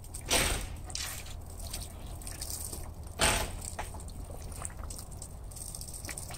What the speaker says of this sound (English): So I'm gonna apply water to it just by shoving the hose onto one of the openings here.